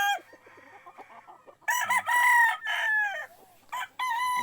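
A gamefowl rooster, a 5K Sweater cross Dan Bishop Kelso, crows loudly and close by in a breeding farm, the long call following softer clucking, with another short crow at the end.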